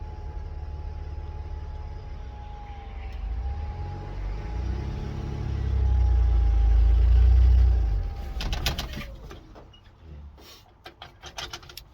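A 1991 Ford F-150 pickup engine idles and rumbles while the truck backs up, swelling to a louder, heavier drone midway before easing off, with a steady whine above it and scattered clicks and knocks near the end.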